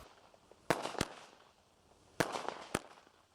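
Fireworks going off outdoors: two pairs of sharp, loud bangs, each pair quickly following the other, separated by a short quiet gap with faint background noise.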